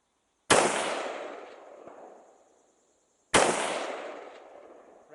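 Two sharp, loud rifle shots at an outdoor shooting match, a few seconds apart, each ringing out with a long echoing decay across the range.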